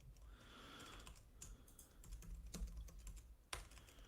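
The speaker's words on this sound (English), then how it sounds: "What are you typing furiously, Darko?" Rapid keystrokes clatter on a computer keyboard, a quick irregular run of soft clicks with a few sharper louder taps, close and with no talk.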